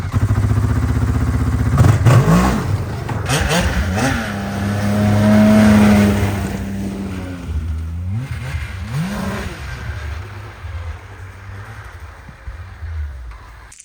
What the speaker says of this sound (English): Next best thing, snowmobile on it.